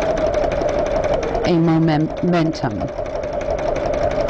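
An embroidery sewing machine runs in short bursts at a moderate pace, a buzzing mechanical whir with pauses between runs, heard close up beneath a voice speaking.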